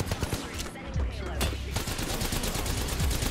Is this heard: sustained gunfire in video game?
yes